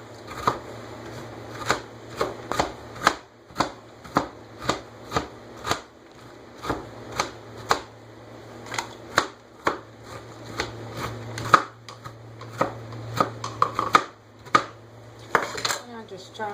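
Pecans being chopped for banana nut bread make a steady series of sharp, close chops in an irregular rhythm, with a few quicker clusters over a quiet room hum.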